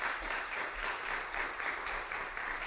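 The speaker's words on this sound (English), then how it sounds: "Let's give them a round of applause." An audience at a high school poetry recitation competition claps steadily, a dense, even wash of applause heard from a distance, fairly quiet and with no voices over it.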